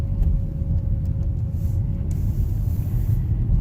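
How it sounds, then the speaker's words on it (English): A manual-transmission car rolls along with a steady low engine and road rumble, the revs dipping and building again as the gears change from first to second. "I'm going to get the car rolling."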